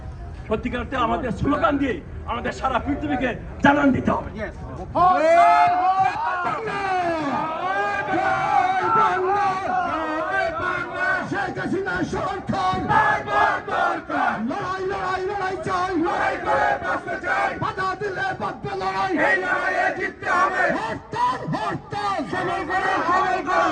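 Crowd at a human-chain rally in New York chanting protest slogans: a lead voice calls, then many voices shout back in a steady, repeating rhythm, loud and continuous throughout.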